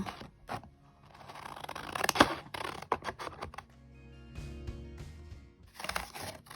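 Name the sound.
scissors cutting paper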